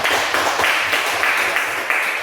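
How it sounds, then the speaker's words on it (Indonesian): A classroom group claps for student presenters, a short burst of fairly loud, close hand claps in loose repeated bursts, with no talk over them. "kita kasih tepuk tangan dulu"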